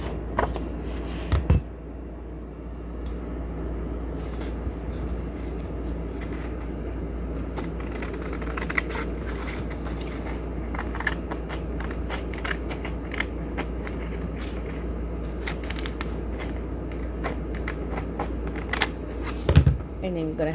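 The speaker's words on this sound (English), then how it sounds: "let me cut all the way around and I'll be right back" Scissors snip scrapbook paper while an envelope is being made, giving faint, scattered cutting clicks over a steady low hum with a couple of sharper snips near the start and end.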